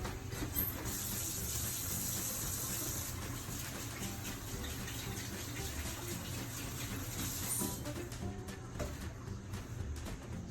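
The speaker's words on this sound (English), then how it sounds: "Wash my hands." A kitchen tap runs steadily while hands are washed beneath it, a soft continuous splashing rush heard close and fairly quiet, with slight changes as the flow is disturbed.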